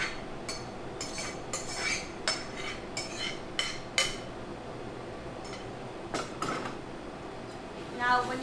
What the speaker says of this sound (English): you don't want to be pressing too hard with the spoons to bruise the spinach